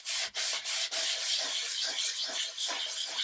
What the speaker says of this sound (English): I'm going to give that a bit of a buff with my sanding block